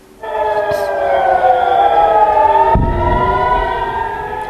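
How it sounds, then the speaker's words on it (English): Air raid sirens wail over northern Israel, several harmonic tones sliding slowly in pitch, loud and continuous for the whole stretch, with a low rumble breaking in near the end. "We can hear there the sirens sounding over northern Israel."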